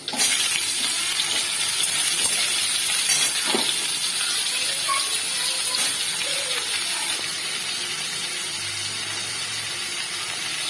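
Washed, drained water lily stems hit hot oil tempered with dried red chilli and black cumin seeds, giving a steady, close, hissing sizzle that stays loud and continuous throughout, with a few faint stirring knocks and no talking.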